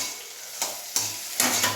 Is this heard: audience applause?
no